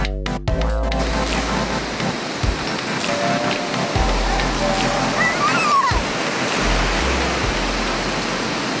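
A big waterfall beside a beach on a wet coastal trail near a lighthouse park roars with a constant broadband rush of falling water, loud and steady, broken by a few brief knocks and rustles.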